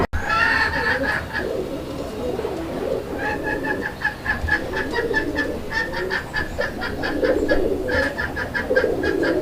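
Chuina pigeons cooing steadily, several birds overlapping in a rhythmic, throaty murmur with repeated higher calls, close and fairly loud throughout, no voices.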